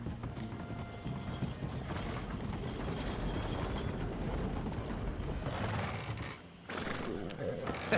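Horse hooves clip-clopping in Red Dead Redemption 2, a steady walking rhythm under a continuous wash of ambient game sound, with a brief dip near the end.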